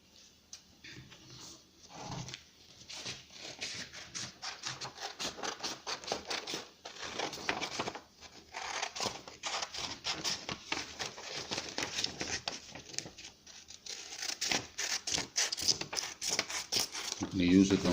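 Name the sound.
cutting out cardboard for DIY cow slippers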